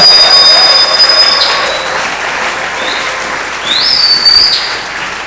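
A church congregation applauding and acclaiming, a sustained wash of clapping that swells, eases, then rises again, with high squealing tones riding over it.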